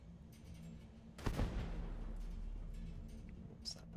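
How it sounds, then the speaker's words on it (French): A grenade explosion in the sci-fi game Starfield, a single muffled blast with a rumbling tail that fades slowly over a low background hum, followed by a faint brief clink. "Ah, grenade."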